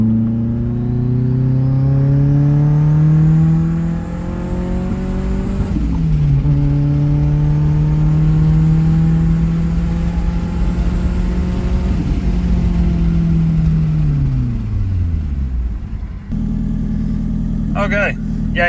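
A BMW E36 with a K24 turbo engine swap pulls hard in third gear: loud, close engine tone climbing steadily, a brief dip at a shift-like break, then rising again before cutting off to idle and wind noise.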